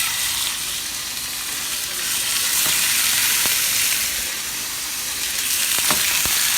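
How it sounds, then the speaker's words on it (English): Steaks hit hot oil in a pan for a quick sear on each side and along the edges. A loud, steady sizzle carries on throughout, with a few faint clicks near the end and no talking. "we're going to sear the steaks just very quickly on each side and all the edges"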